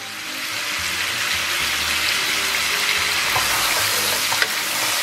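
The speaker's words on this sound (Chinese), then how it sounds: "再给它简单煸炒一下" Braised pork ribs stir-fried in a wok with Sichuan pepper powder, ginger powder, star anise powder and five-spice: a loud, steady, close sizzle and frying hiss throughout, with faint scraping of stirring and no talk.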